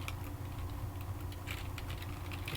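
Fingers tap quickly on a computer keyboard, a steady patter of close, light keystrokes over a low hum, with no voices.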